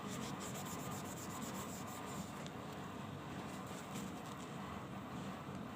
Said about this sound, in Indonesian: Hasil anodes yang benar harusnya tidak akan luntur sewaktu kita gosok pakai kain atau gosok pakai tisu